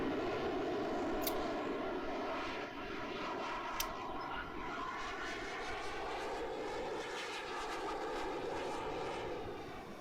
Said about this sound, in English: Right, let's go for a landing. Make sure landing gear is down